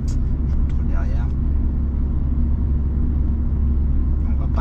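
A manual car rolls slowly through town with low, steady engine and road rumble that holds close and constant throughout, with faint higher sounds drifting above it.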